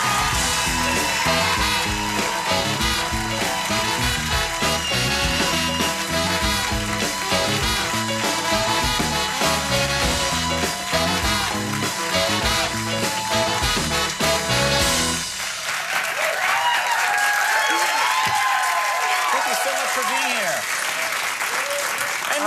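A studio audience of a television talk show cheers and applauds loudly as Dame Helen Mirren is welcomed, dense clapping filling the first fifteen seconds, then shifting into whoops and shouts that carry on over continued applause.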